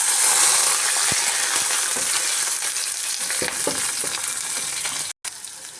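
Onions sizzle loudly and steadily in hot oil with mustard seeds, cumin and curry leaves for a brinjal curry. Occasional soft clicks of a stirring utensil sound against the pan.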